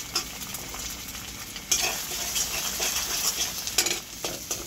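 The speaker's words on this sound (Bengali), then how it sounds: "রাকিব কড়াইতে তেল দিয়ে নিল, এখন ডিম দিয়ে ভেজে নিচ্ছি" Eggs fry in oil in a wok with a close, continuous sizzle and crackle, with a few sharper spatula scrapes and clinks against the pan.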